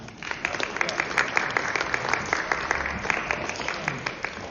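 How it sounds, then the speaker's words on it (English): Steady applause from a student recital audience, dense clapping with a few louder individual claps, continuing evenly throughout. "How about a round of applause for Tia?"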